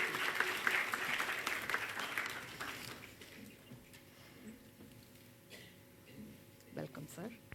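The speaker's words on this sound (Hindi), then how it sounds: "जोरदार तालियों के साथ स्वागत।" A burst of audience applause at a book launch for a few seconds, then it fades into quieter room sounds with a brief voice near the end.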